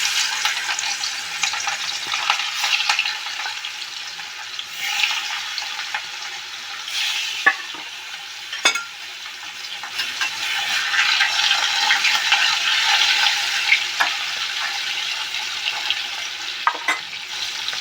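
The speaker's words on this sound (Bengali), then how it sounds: "আমার তেলটা গরম হয়ে গেছে, এবার আমি মাছগুলো একটা একটা করে ছেড়ে দেবো।" Fish pieces slid one by one into hot oil give a bright, crackling sizzle that swells and dips, with occasional sharp pops and utensil clicks, close and steady, no voices.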